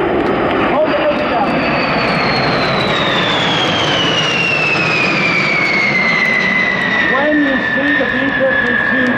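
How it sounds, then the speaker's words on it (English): A B-52 Stratofortress eight-engine jet bomber roars loudly overhead at an airshow in Oshkosh, its pitch sliding downward as it passes close by. "There is an 8-engine profile, and that is one manly airplane."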